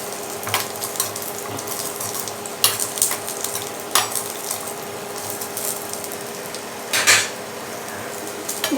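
Peanuts dry-roasting in a pan for chutney, stirred with a spoon: steady close rustling and scraping with sharp clinks of metal on the pan at irregular moments.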